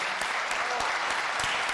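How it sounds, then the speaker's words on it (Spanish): Applause at a Honduran presidential candidate's event, a dense crowd clapping steadily with a few sharper nearby claps standing out, continuous through the whole short stretch. "Un aplauso, precisamente"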